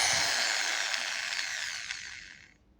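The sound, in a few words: Ryu RDR 10-3 RE cordless drill running in reverse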